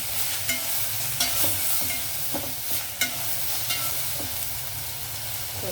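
Vegetables and brinjal pieces, with curry leaves, coriander, green chillies and tomato, sizzling steadily in a pan for chana brinjal curry, a soft continuous fry broken by occasional scraping stirs, no voices.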